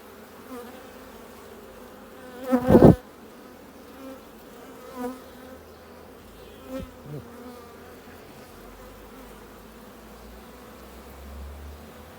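Honeybees buzzing at a beehive during beekeeping work: a steady, close, droning hum fills the whole stretch, with a brief louder knock or rustle near the start.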